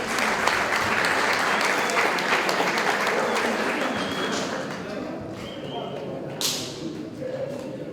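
Applause from a graduation audience for students of a motorcycle and vehicle mechanics program fills the space with dense, sustained clapping that slowly thins toward the end, with a sharp bright snap near the close and voices faintly mixed in.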